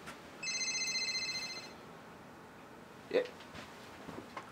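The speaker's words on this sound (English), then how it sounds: "Getting a phone call." An incoming call sets a phone ringing: one bright, warbling electronic ring lasting just over a second, fairly faint, followed by quiet room noise and a small bump.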